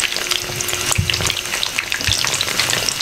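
Chicken pieces fry in hot oil for a sandwich, a loud, dense, continuous sizzle with crackles and occasional stirring clatter, heard close up with no talking.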